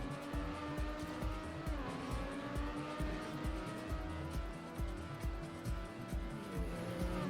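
A race car in TrackMania Nations Forever skids through a turn, tires squealing over a continuous droning engine roar, loud and sustained throughout.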